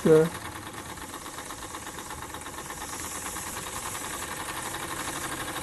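A RETROL SE-02 model steam engine with boiler drives a generator lighting a small street lamp, giving a steady, fairly faint rapid chuffing hum after a short louder burst at the start.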